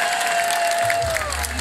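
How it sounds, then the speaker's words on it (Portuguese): A festival crowd at the Festa do São Pedro in Câmara de Lobos, Madeira, claps and cheers loudly, with a sustained musical tone ringing under the near, continuous applause. "uma salva de palmas para ele"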